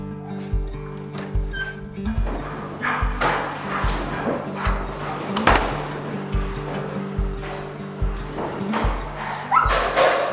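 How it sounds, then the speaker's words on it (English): Retriever dogs at a training farm barking and whimpering, heard over a steady rhythmic low thumping and a sustained tonal background, with scattered sharper yelps standing out near the end. "He's one of our oldest dogs."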